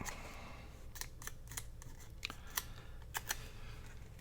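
Scissors trim a paper label for a journal pocket, making soft, crisp snips and small rustles, close and quiet, spaced irregularly over a few seconds.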